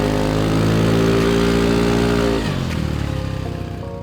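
A KYMCO G7 scooter climbs a steep mountain road at full throttle, its engine droning loud and close with a rising whine before the pitch drops as the load shifts, wind rushing around it.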